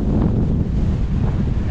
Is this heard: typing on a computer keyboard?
no